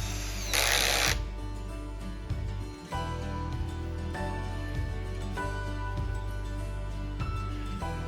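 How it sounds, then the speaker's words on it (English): Power drill driving screws down through a top piece of wood into a wooden post for a rustic solar panel frame; a loud, steady motor whine runs almost continuously, with a brief burst of higher-pitched grinding near the start. "screwing down through the top piece into the top of the post"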